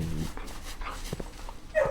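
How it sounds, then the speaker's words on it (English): Dog sounds in the video game Blue Prince, several short yelps and whimpers with a panting quality, scattered across a couple of seconds at moderate loudness, close and fairly clear. "I keep thinking that's an actual dog barking behind me"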